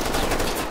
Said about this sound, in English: It's like bullets hitting the wall of the briefing room.